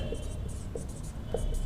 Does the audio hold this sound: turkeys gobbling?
no